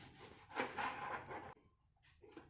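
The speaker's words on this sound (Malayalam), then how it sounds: "കട്ട് ചെയ്യാനായിട്ട് ഞാൻ ബോർഡിൽ വെച്ചാണ് കട്ട് ചെയ്യുന്നത്" A knife slices through lemons on a cutting board, making soft scraping, rubbing strokes followed by a short, quieter crunch, all faint and close.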